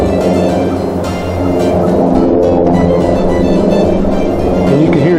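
Airplanes fly overhead outdoors during open-air Dutch oven brisket cooking, giving a loud, steady droning rumble with a tonal hum that lasts the whole time. No voices are heard.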